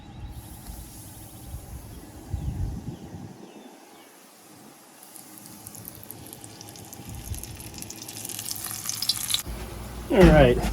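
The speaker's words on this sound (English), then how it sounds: "our oil is hitting right at 350 now. So we are ready to fry" Pieces of pheasant back go into oil heated to 350 degrees for deep frying. A steady, close sizzle rises and thickens toward the end, with a brief louder splash of bubbling near the close.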